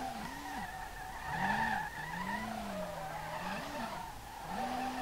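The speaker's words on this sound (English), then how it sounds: "I like the drifting of this car." A car drifts in the racing game Street Legal Racing Redline (SLRR) on a brand-new chassis. Sustained tire squeals rise and fall in long sweeping skids over a low engine drone.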